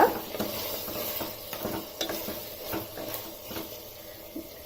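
Ginger garlic paste is stirred in a hot pan for a chicken palav, soft sizzling under repeated scraping strokes of a spoon, close and fairly quiet, with no voices.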